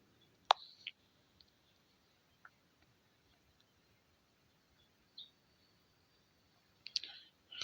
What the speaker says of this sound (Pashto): دا پر ګډ کنفرمیشن نمبر باندې به کلیک وکړئ